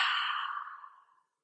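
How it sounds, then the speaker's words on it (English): A single soft exhale at the end of a hatha yoga class, close and breathy, fading out over about a second. "And exhale. All the air out."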